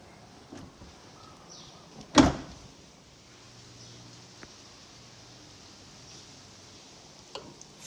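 Fuel door on a 2017 Honda HR-V 1.8 S popping open with one crisp, loud click up close, followed by a couple of faint ticks over quiet background noise.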